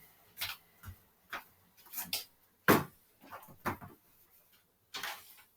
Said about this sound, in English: I had to open the door for somebody